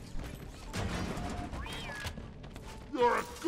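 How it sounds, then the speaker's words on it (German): Gunfire in the video game Deep Rock Galactic, rapid bursts of shots and mechanical clatter mixed with game effects at low volume, with voices talking throughout. "Beziehungsweise ich höre nur die Schüsse."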